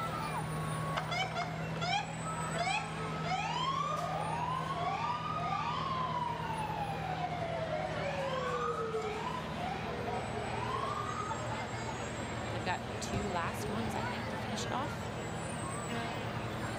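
A fire truck siren wails in rising and falling sweeps during a Halloween parade in Bangor, loud and nearby, over a low engine drone with voices talking underneath.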